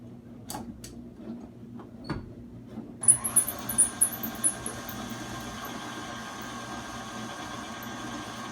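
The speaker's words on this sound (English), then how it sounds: "So we'll get this set up on the mixer here and start mixing it." An electric stand mixer starts up on white cake batter after a few quiet knocks, settling into a steady whirring motor drone with light rhythmic ticking from the beaters, close and moderately loud.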